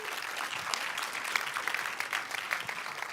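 An audience at the PAKCON 2022 conference claps after a talk, a fairly quiet, steady patter of many hands filling the whole moment.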